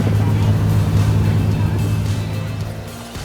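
A motorboat on the crossing from Hoi An to the Cham Islands in Vietnam pulls away again after its motor was repaired, giving a loud, steady low engine drone that eases off slightly toward the end, with no talking.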